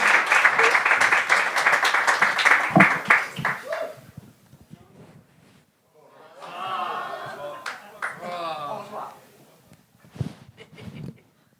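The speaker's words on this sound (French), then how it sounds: "Un tonnerre d'applaudissements pour un vieux de la vieille, Roger Ménard!" Audience clapping for a performer on a French-language Gong Show episode, a loud burst of many hands that fades out after a few seconds, followed by someone speaking.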